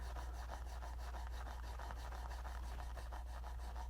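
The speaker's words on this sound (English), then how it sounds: "So I'm trying to file just the front part only." A hand file works the front end of an HO scale model hopper car, a quick, even run of faint rasping strokes repeating steadily at close range.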